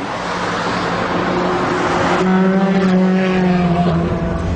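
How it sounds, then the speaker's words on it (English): A Ferrari 360 Challenge Stradale with sports exhaust drives hard, its engine a loud, close, steady roar that climbs in pitch midway as the revs build, with no talking. "I suspected the sports exhaust would become rather wearing"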